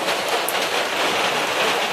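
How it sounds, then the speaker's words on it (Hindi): Steady daytime rain pours in a continuous, even hiss with no breaks, dense and fairly close, with no voices over it. "देखो कितनी बारिश हो रही है।"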